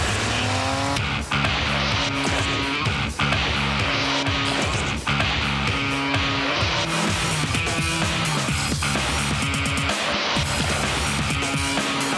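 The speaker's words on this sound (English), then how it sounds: "Start your engine." Race car engine roaring loudly with tire squeals and skids, revving and driving continuously over a dense music-like commercial bed, intense throughout.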